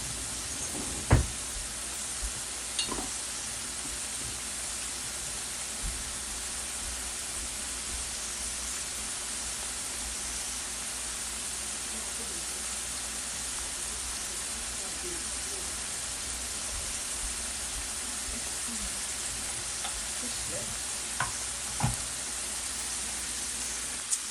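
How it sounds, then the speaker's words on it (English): Homemade French fries frying in a pan of oil, giving a steady, dense crackling sizzle that holds evenly for the whole stretch, with a few faint knocks and taps at scattered moments. "Homemade French fries. Okay. So these will just cook for about 2 minutes and then we'll be done."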